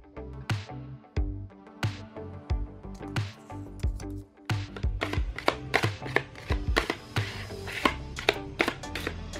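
Body filler being mixed with hardener by a putty knife during a Vespa restoration, heard as close, irregular scraping and tapping strokes over music-like tonal background.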